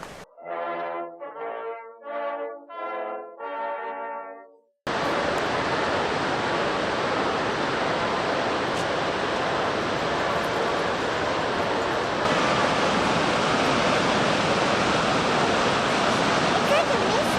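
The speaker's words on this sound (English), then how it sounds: "We made a pit stop after Minidoka at the Shoshone Falls" A steady, loud, broadband roar of Shoshone Falls pours on without pause after a few seconds of talk, growing slightly fuller toward the end.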